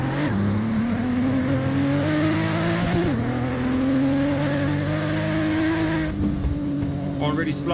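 Race car engine in Assetto Corsa drones at high revs with tire squeal as the car slides out of a corner, steady and loud with a brief gear shift dip, under a talking voice.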